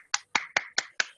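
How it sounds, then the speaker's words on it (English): A single person claps five times in a quick, steady rhythm, each clap sharp, close and dry, with no voices around. "I want to really clap for Irfan"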